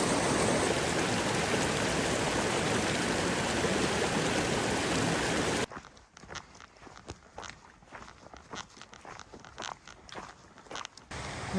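Elk Creek on the Colorado Trail rushes loudly and steadily for about half the time, then cuts to quieter surroundings with scattered footsteps and rustling.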